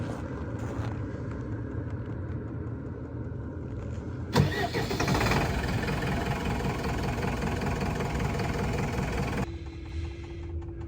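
A van engine turning over and idling in freezing cold of about -16 to -18 degrees, steady low rumble with a sharp jump in loudness as it catches, running near and alone before settling back.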